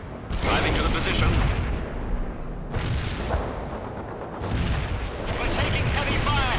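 Artillery shelling and gunfire in the World in Conflict war game roll on in dense, continuous bursts, with loud impacts near 0.3, 2.8 and 4.4 seconds, while radio-style unit voices talk over the battle.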